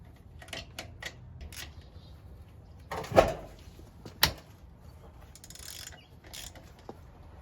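Wrench breaking loose the 15 mm transmission bolts on a 4L60E during a 4WD-to-2WD teardown, with a few sharp metallic clicks and ratcheting ticks, two stronger cracks standing out against a quiet shop background.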